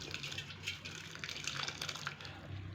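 Curdled milk is strained to separate paneer from the whey, a steady gushing pour of liquid through a strainer with splashing and dripping, close and uninterrupted by speech.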